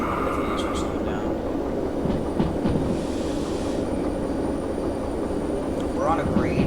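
Freight train rolling and braking in the Derail Valley simulator game while hauling steel, a steady loud rumble of wheels on rail with a rising brake squeal near the end.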